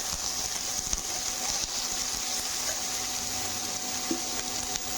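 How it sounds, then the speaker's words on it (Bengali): Potatoes fry in a pan for aloo posto, a steady close sizzle with faint crackles and no pauses. "আলুটাকে আমি লাল করে ভেজে নেব।"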